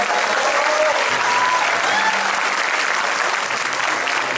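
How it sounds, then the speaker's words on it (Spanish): A crowd claps steadily and loudly for the drummer of a band during a tribute concert, with a few whistles rising over the dense applause. "Un aplauso para él, por favor."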